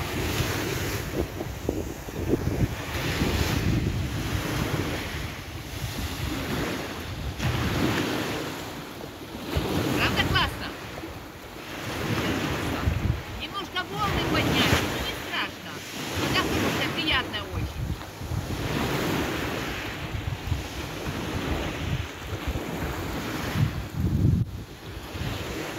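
Sea waves roll and crash continuously at a beach in Kaş, with heavy wind buffeting the microphone and surges of surf rising and falling.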